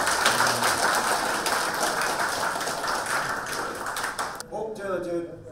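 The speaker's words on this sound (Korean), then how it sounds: "우리 칭찬 박수 한번 보내주세요" Clapping from the audience at a year-end gathering of a Korean veterans' association chapter in Busan: dense, steady applause fills most of the moment, then stops abruptly as a voice starts speaking near the end.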